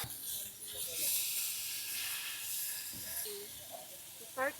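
Beef steak sizzling in a pan at a mountain campsite, a steady broadband hiss lasting throughout with brief voices and small clinks over it.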